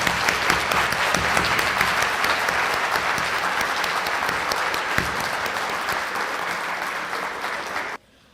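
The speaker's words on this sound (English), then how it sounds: "Let's give Mendon High School students another round of applause." Sustained applause from an audience at a high school PTSA life membership awards ceremony honoring Mendon High School students, dense steady clapping for about eight seconds before cutting off abruptly.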